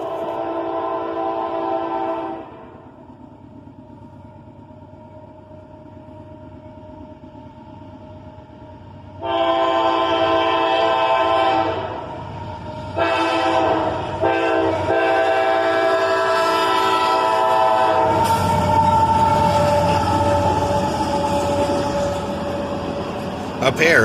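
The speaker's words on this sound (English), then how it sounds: "A pair of AC-44 CWs, the trailing unit still in Y&2 paint, lead this northbound tanker train past the gas station." A northbound tanker train led by two AC44CW locomotives, the trailing unit in Y&2 paint, passes a gas station, sounding long loud horn blasts over rumbling wheels and wagons that roll on steadily nearby.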